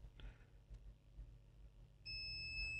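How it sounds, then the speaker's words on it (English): A multimeter on continuity test emits a steady high-pitched beep that starts abruptly partway through and continues, close and clear, while probing a laptop motherboard, with faint handling sounds beforehand. "You can see the multimeter is beeping"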